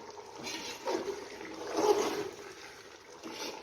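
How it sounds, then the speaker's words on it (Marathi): Steady bubbling and gurgling of chicken biryani boiling in a pot, with soft surges of churning water throughout. "तर मस्त छान आपली उकळी आलेली आहे"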